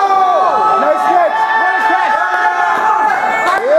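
A wrestling crowd at an independent show roars steadily and loudly, a dense wash of cheering and chanting voices with no breaks.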